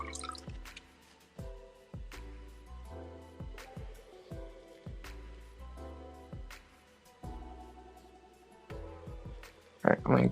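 Water drips and sloshes in a prospecting pan as diamond paydirt is washed, a series of separate splashes and trickles over a few seconds, ending in a louder close slosh.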